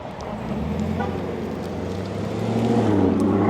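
A Dodge Hellcat runs on a dynamometer in a shop, its engine a steady low drone with a strong low hum that swells and rises toward the end, heard alone without speech.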